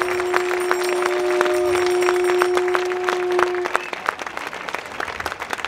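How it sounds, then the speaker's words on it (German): A crowd at an outdoor sovereignty demonstration applauds the organisers with brisk, steady clapping while a sustained bell-like tone rings over it, then the clapping thins out into scattered claps. "Applaus für die Organisatoren hier."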